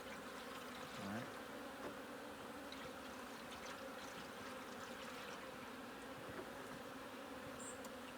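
Bees buzz in a steady, continuous drone, fairly faint, with no break throughout.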